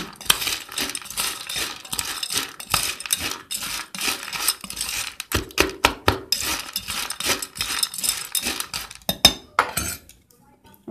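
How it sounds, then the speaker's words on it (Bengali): Roasted black chickpeas rattle and clink against a metal pan or bowl as they are mixed with mustard oil, a busy run of rapid close clattering bursts that thins out near the end. "আর দেব সর্ষার তেল এবার একসঙ্গে মিশিয়ে নেব"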